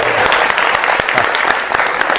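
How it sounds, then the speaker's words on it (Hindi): A loud, dense burst of audience clapping fills a political talk-show studio, continuous and close with sharp individual claps poking through, voices faintly audible beneath. "अरे एक बार जोर से ताली बजाइए।"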